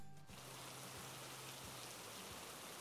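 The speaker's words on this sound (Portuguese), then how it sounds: "Está chovendo." Steady rain falls outside a house, a dense, even hiss of drops that fills the background at low level, with a faint low hum running beneath it.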